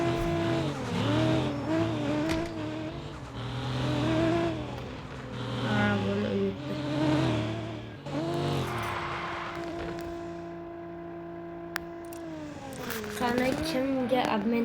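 Fast cars race in a video game, with engines droning and revving steadily in the foreground, pitch rising and falling through gear shifts and a brief tire squeal. A voice is heard over the engine noise.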